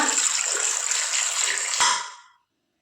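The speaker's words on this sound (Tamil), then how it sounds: "அரை கப்பு தண்ணி சேர்த்துக்கோங்க" Half a cup of water splashes and pours steadily into a pressure cooker for about two seconds, then trails off into silence.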